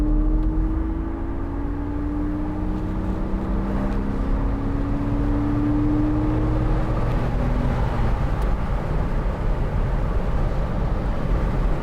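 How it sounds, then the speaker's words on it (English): A 2002 Porsche Boxster 986 with the 2.7 engine accelerates on the road, its steady engine drone rising in pitch through the gears, heard from inside the car with the top down and no talk. "We'll just give it some gas."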